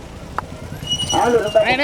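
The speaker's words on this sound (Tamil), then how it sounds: "சைட்ல வாங்கினே மாடு வருது." Bulls' hooves clip-clop at a first-year bullock cart race in Kaikkudi, a quick rhythmic patter under a commentator's excited loudspeaker voice.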